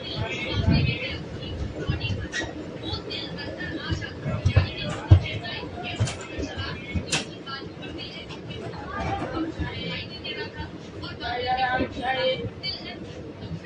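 A passenger train pulls away from Jejuri railway station on the Kolhapur–Pune line: a steady, broad rumble of rolling stock and station noise, with scattered bumps and people chattering nearby throughout.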